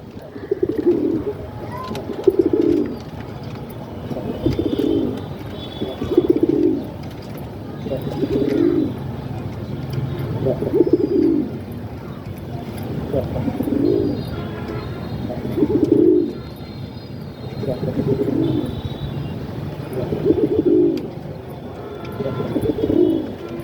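Rajshahi-line domestic pigeons coo in a steady, repeating pattern of soft, low throaty calls about every two seconds, close by and fairly loud, with faint chirps in the background.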